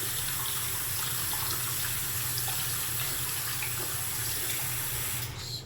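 Tap water runs steadily through a small vape coil held under a faucet, a constant close rushing hiss that fades slightly right at the end.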